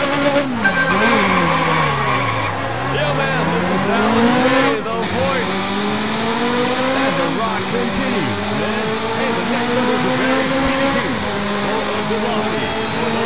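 Ferrari F355 race cars in a Dreamcast racing game pull away at the start, engines revving high and climbing through repeated gear shifts, with tire squeal and other cars nearby, loud and continuous.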